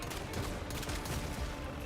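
Continuous rapid gunfire in the video game Warframe, a dense, loud barrage of shots with no pauses and no talking.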